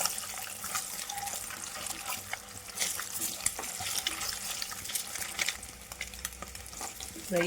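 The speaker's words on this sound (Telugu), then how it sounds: "ఫస్ట్ ఎగ్స్ ఫ్రై చేసుకుందామండి." Eggs frying in hot oil for a Telugu ridge gourd, dried prawn and egg curry, giving a steady crackling sizzle with scattered spatter pops at close range and no voices throughout.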